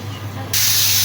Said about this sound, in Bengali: মাছটা আমি তেল দিয়ে ভালো করে উল্টে পাল্টে ভেজে নেব।